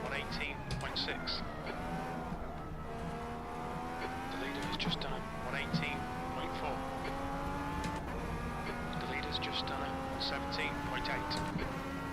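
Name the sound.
IndyCar race cars passing in Automobilista 2 video game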